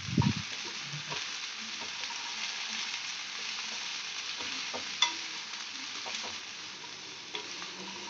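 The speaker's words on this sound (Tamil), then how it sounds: "வெண்டைக்காவுக்கு தேவையான உப்பையும் சேர்த்துட்டு நல்லா வதக்கி விட்டுக்குங்க." Sliced okra with salt is stir-fried in a pan for vendakkai poriyal: a soft, even sizzle runs throughout, broken by scraping stirs and a couple of sharper taps of a spatula on the pan.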